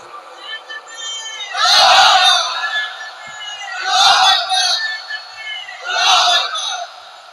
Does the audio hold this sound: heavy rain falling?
no